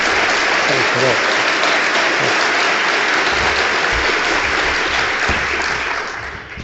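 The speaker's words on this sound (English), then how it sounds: "Please, another hand for Paul Keating." Large crowd clapping for Paul Keating at an event in Victoria, loud continuous applause that holds and then fades out toward the end, with faint voices underneath.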